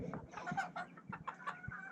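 A pet chicken gives short, nearby clucks in an irregular run of soft bursts during a grooming session.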